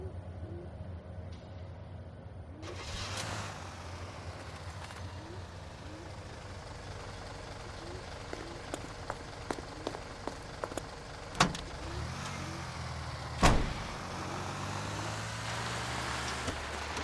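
A car engine drives along steadily in the L.A. Noire video game, a low continuous rumble with scattered sharp clicks and a couple of louder knocks near the end.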